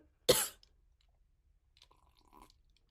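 A woman who is sick gives a single sharp, close cough, followed by quiet shuffling and small handling noises.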